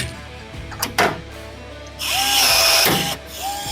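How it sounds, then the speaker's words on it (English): A power drill bores through a duck boat's hull from the inside out to make rivet holes: a single whining burst of about a second, close and loud, with no talk over it. "I'm going to drill from the inside to the outside."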